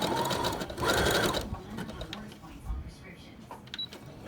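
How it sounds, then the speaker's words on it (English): Sewing machine back-stitching the nose-wire section of a homemade medical mask, two short loud bursts of rapid needle clatter early on, then quieter handling and faint rustling; no talking. "I'm going to back stitch."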